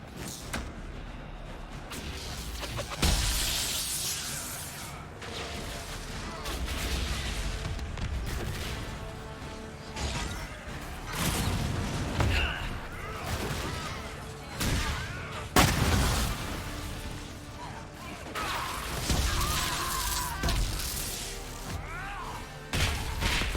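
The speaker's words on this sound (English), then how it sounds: "Walking bomb is so cool." Walking Bomb explosions in the fantasy role-playing game Dragon Age Inquisition: a long stretch of repeated booms and crashing blasts at irregular intervals over steady battle noise, some loud hits standing out from the dense background.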